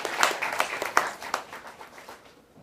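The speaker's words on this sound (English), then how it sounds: "So they must deserve a big round of applause from them." Applause from a conference audience at an international academic conference in India, a modest crowd clapping with distinct individual claps standing out, fading gradually toward the end.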